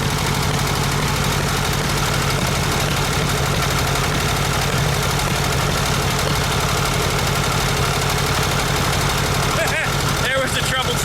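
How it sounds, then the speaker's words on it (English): A VW Super Beetle Volksrod engine runs with a misfire, a loud, steady idling drone with an uneven, stumbling beat close by, and a voice speaks over it at times. "So we definitely got a misfire."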